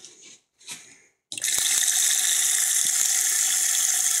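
A vacuum motor fully submerged in water runs with a loud, steady rushing and churning roar that starts abruptly after brief sloshing, with a few thumps underneath.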